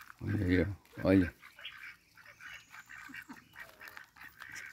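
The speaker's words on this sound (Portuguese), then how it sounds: "aqui são patos, marrecos, né?" A flock of ducks and teal quacks and honks close by, a couple of loud calls at first and then scattered softer quacks, with someone speaking over them.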